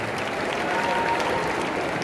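An audience at a Delhi government anti-drug awareness event breaks into steady applause, a dense wash of clapping hands heard at moderate distance with no talking.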